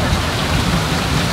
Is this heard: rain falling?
yes